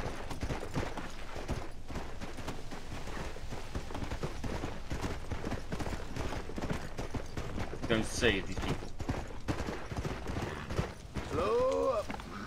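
In Red Dead Redemption: Undead Nightmare, a horse's hooves clip-clop in a fast galloping rhythm that runs through the whole stretch. Someone talks over the hoofbeats, and there are scattered bursts of gunfire and game noise.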